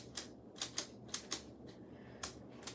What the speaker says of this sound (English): it has like the little clicking noise if you can listen